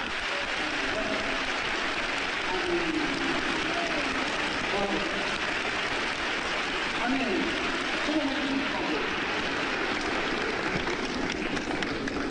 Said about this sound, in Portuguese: Você está batendo palmas para mim?